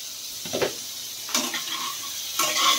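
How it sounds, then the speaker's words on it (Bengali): Eggplant and potato pieces fry in a pan, with faint sizzling and a few scraping stirs of a spatula in short bursts. "বেগুন আলুটা মিশিয়ে গেছে, ভাজা ভাজা হয়ে গেছে।"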